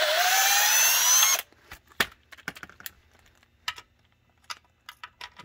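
Wrenching out oil pan bolts beneath a Nissan Silvia with a 370Z twin-turbo swap: a loud ratcheting power-tool burst first, then scattered faint clicks and metallic taps; no talk.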